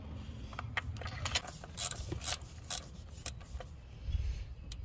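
A GearWrench ratchet works a spark plug loose on a 2009–2018 Ram 1500 Hemi engine, giving a run of close, sharp metallic clicks in short bursts over a low background hum.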